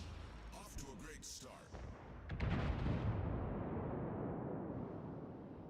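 Battleship main guns firing in World of Warships, a rapid cluster of booming blasts followed by a long rolling rumble, loud and dense.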